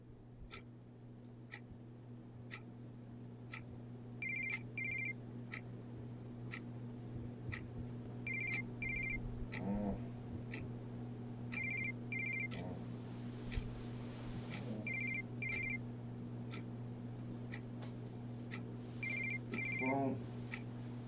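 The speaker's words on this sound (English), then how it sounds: "Doc, get the phone." An old-style telephone bell rings in short repeated double bursts at a steady rhythm, moderately loud over a constant electrical hum and faint ticking in a staged comedy scene.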